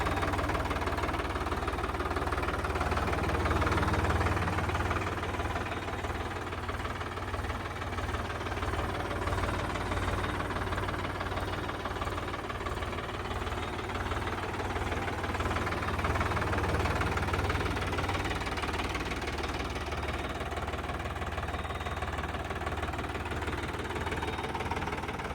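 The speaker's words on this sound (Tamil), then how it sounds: "இந்த டிராக்டர் சொனாலிகா DI" Sonalika DI diesel tractor engine running steadily at idle, a continuous low knocking rumble close by with no speech.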